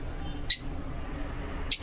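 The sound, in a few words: lovebirds squawking and chirping loudly in a colony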